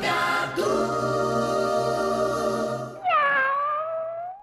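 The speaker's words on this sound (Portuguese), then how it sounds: "O miado anuncia" A cat's drawn-out meow opens a radio show, a loud, close, sustained tonal cry rising then bending into a second wavering meow, with a low steady hum beneath and no talk.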